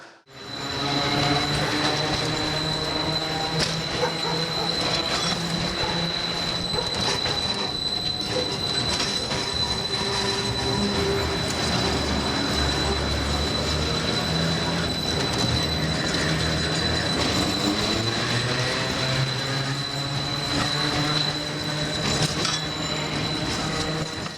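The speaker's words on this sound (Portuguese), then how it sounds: "O bonde, quando está com a zoada de Mercedes, é como um coração novo." The old Santa Teresa tram in Rio de Janeiro rolls along with a loud, continuous rumble of motor and rails, a steady high whine over it, and repeated metallic rattles and wheel squeals close by.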